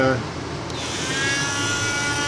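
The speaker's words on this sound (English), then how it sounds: "got a little wire wheel on the end of the Dremel here. Start it up and" Dremel rotary tool fitted with a small wire wheel spins up on an aluminum fuel pump from a 1995 Indy 440, a close steady high-pitched whine and buzz that rises after a brief start and continues evenly.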